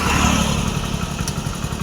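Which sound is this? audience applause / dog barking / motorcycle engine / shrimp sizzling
motorcycle engine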